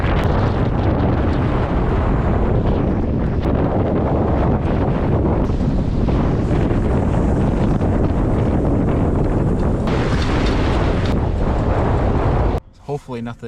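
Strong wind buffets the microphone over open water during a cold, brisk kayak fishing tournament, a loud continuous roar with gusty swells throughout before dropping away sharply at the end.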